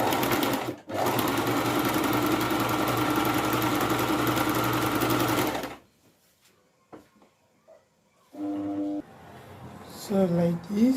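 A sewing machine stitches an ankara senator shirt in a loud, steady run of about five seconds, then stops; after a brief quiet stretch, a person talks.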